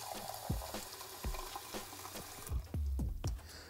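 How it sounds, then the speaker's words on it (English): Water is poured from a cup into a crock pot holding a pork loin, with gurgling splashes and a series of low sloshing plops, close up and fairly quiet, with no talk. "I'm going to add, maybe about another cup of water or so in here"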